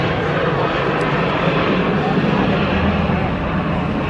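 A jet roars past at low level during the Eastbourne Airshow, its dense broadband rush staying loud and steady throughout.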